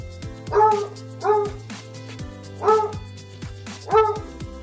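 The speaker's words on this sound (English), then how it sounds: "He likes to bark." A dog barks four times in a loose, uneven rhythm, close and fairly loud, over a low steady background hum.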